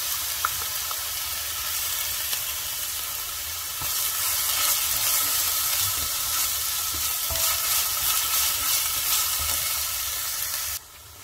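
Grated onion and garlic frying for a chicken tagine, a steady bright sizzle that swells midway and runs unbroken until it drops suddenly near the end.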